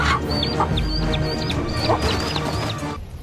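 A chicken clucks and squawks in repeated short bursts while an eagle attacks it, close and fairly loud over steady background noise, with no voices.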